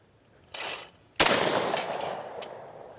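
A Savage 775 shotgun fires a single loud, sharp outdoor shot that trails off in a long, fading echo. A softer rushing burst comes just before it.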